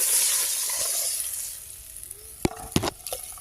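A fish curry base sizzles and fries in hot oil in a pan, a soft broad hiss fading over a few seconds, then several sharp stirring scrapes and clacks near the end, with no talking.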